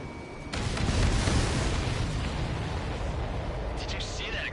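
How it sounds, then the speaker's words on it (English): A supply ship explodes after a missile hit in the video game Ace Combat 7, giving a sudden loud rumbling blast that sustains as a dense roar, with a voice briefly heard near the end. "Did you see that explosion? Looks like that's one of them down."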